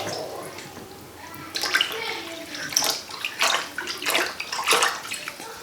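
Boiling water pours and splashes into a baby bathtub in uneven bursts, close by, with sloshing between pours.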